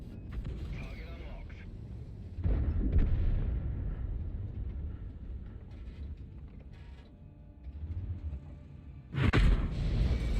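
Artillery shell striking a tank in World of Tanks, a sudden heavy impact boom among mechanical creaks and clanks of the vehicle, with a second sharp blast near the end and people talking.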